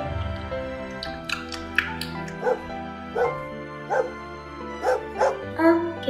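A video-game dog barks several times in short, bright yips over a steady musical background, with a whimpering tone between barks.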